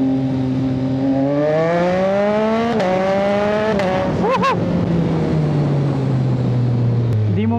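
A slim, light motorcycle accelerates hard up close, its engine note climbing steadily through the gears with brief dips at each shift before settling into a high, loud drone.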